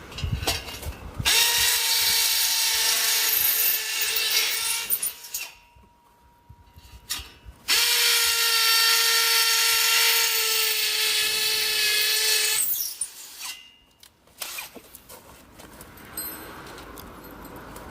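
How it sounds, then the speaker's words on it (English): A power drill whines loudly in two long runs separated by a brief pause while pre-drilling holes for a gate installation, followed by a few short bursts and handling noise. "I'm going to pre-drill my other 2 holes."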